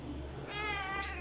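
A pet cat gives a single short meow, close and clear, over a quiet room hum with no talking.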